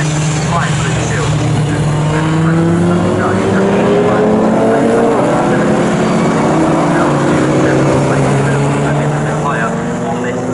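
Historic 1960s race cars in a Swinging Sixties group race at Snetterton circuit, several engines roaring and rising in pitch as they pass, continuous and loud, with a commentator talking over them.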